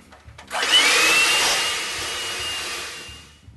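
An electric hand mixer whirs into a steady, loud motor drone, then gradually loses strength and fades as it gives out while mixing rice cake batter.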